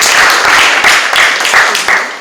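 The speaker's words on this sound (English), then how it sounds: "Give a round of applause." An audience claps at a screenwriting talk, steady loud applause from a crowd that swells in soft waves and fades slightly toward the end.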